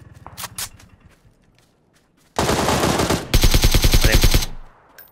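Gunfire in the battle royale game PUBG: a few sharp shots at first, a short quiet gap, then two long bursts of rapid automatic fire, loud and close.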